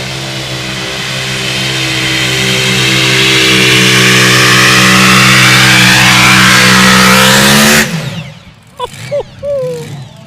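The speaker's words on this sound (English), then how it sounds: "Wenn so ein V8 komplett hochdreht neben dir" A V8 mini rod tractor-pulling engine screams at full throttle, loud and close, its pitch climbing steadily for about eight seconds before cutting off abruptly into quieter rumbles and faint voices.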